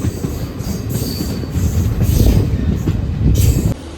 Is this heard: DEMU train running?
yes